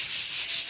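Old puttied wall being rubbed down before repainting, a steady close hissing scrape of abrasive over the surface, continuous and even with no pauses or voices.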